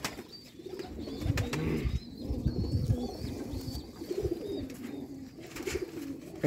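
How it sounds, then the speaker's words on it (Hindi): Rare Sialkoti pigeons on a rooftop in Sialkot, Pakistan coo in low, throaty, repeated calls, close and overlapping, with occasional wing flutters and faint chirps in the background. "दोस्तों कबूतर है"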